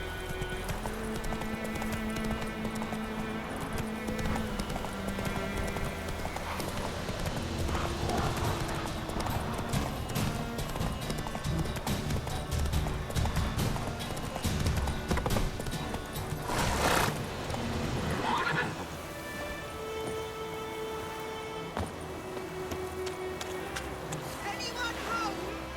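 Horse hooves clip-clop steadily at a gallop in The Witcher 3, with occasional whinnies, under a continuous game music and ambience bed with some talk.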